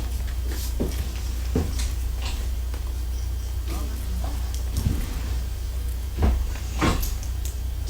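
A drawer opened and shut repeatedly, with a series of short wooden knocks and slides over a constant low rumble, close by and fairly loud, with occasional talk in the background.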